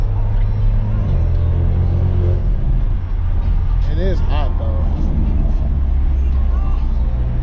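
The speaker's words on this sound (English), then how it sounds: "I hope the camera's picking up this beautiful turbo sound." A turbocharged Alfa Romeo Giulia engine drones steadily from inside the moving car, low and constant throughout, with a person speaking briefly over the road rumble.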